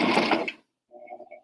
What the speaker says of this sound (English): I'm using a thicker sewing needle on my sewing machine